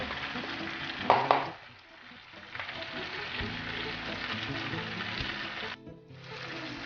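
Menemen, the Turkish egg and tomato dish, sizzles and fries steadily in a pan as white cheese is added, with a brief louder stir or clatter near the start and a short dip in the sizzle toward the end.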